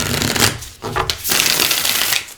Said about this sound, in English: I love the way it shuffles